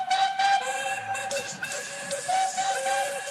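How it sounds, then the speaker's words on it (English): Several steam whistles sound together in a loud, overlapping chorus, sustained tones rising and falling at different pitches with hissing steam between them. "a chorus of whistles from engines large and small"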